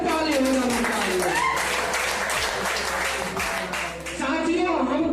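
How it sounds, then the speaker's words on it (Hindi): Workshop audience applauding a group at a motivational training session, a continuous dense wash of clapping that stays loud throughout, with crowd voices and shouts mixed in. "एक बार अपने ग्रुप के लिए जोरदार से ताली होना चाहिए।"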